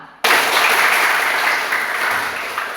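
A school class applauding after singing a hymn together, a sudden burst of steady, dense clapping that starts abruptly and carries on evenly to the end.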